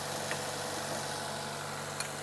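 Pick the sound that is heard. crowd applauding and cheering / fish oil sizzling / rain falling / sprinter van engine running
sprinter van engine running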